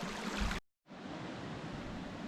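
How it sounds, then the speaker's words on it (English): Creek water flows steadily alongside a winter campsite in the Whiteshell, a continuous broadband rush close to the microphone, briefly cut to silence before resuming just as full and even. "So I found a good spot to set up my tent right here, right alongside the creek"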